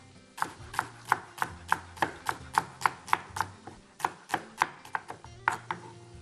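A knife chops celery on a cutting board in a home kitchen, a steady run of about eighteen crisp, close strokes in even rhythm, with a short pause near the end before the chopping resumes.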